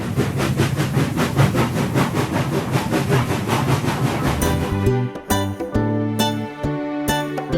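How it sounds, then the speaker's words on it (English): A steam engine train rolls with steady rhythmic chugging and clattering for several seconds before the sound gives way to other tones, fairly loud and without any voices. "Steam engine."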